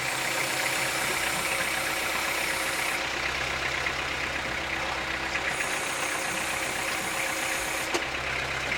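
A Kubota tractor engine idles close by, a low continuous rumble with a faint knocking throb running unchanged throughout.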